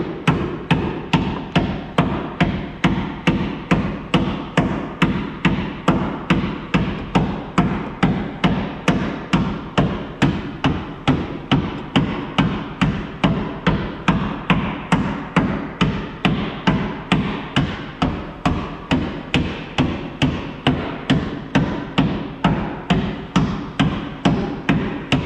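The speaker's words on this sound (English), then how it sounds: "I just started tapping this thing with a hammer" Regular metallic taps from a hammer striking a coin, evenly spaced and repeating many times at a steady pace, with no talking.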